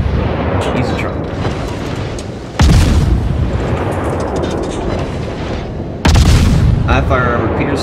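Heavy naval guns firing armor-piercing shells in World of Warships, with two loud booming salvos around the third and sixth seconds over a dense, rumbling battle din and continuous engine noise.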